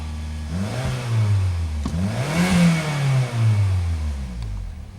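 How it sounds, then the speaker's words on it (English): A Saab car engine idles and revs up and down in steady swells, close by, with a low rumbling drone throughout and no talking. "Getting it warmed up since I can't drive it"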